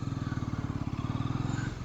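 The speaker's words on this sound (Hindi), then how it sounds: "जैसे बाइक चल रही है अभी" Bajaj Pulsar NS400Z motorcycle being ridden, its engine giving a steady throbbing, pulsing rumble that stays close and fairly loud throughout, without any talk over it.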